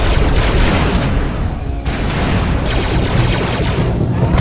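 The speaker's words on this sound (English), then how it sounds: "Placing breach charge." A breach charge detonates in Star Wars: Republic Commando during a Kashyyyk outpost assault, a loud, dense roaring blast that fills the whole moment with rumbling debris and gunfire-like crackle.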